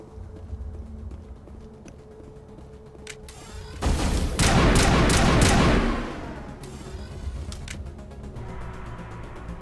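Gunfire in the video game Mass Effect on the planet Ilos, a few sharp isolated shots followed by a loud, dense two-second burst of rapid fire, then scattered quieter shots.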